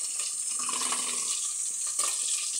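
Tap water runs steadily into a sink while curry leaves are washed, a continuous close hiss with faint splashing and no one talking.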